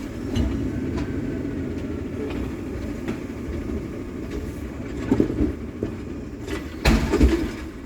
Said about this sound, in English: There goes the trash man. Or is it the recycle?